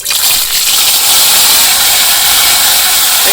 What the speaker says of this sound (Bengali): তেলের মধ্যে আদা দিলে দেখেন তো